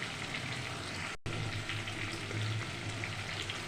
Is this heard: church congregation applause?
no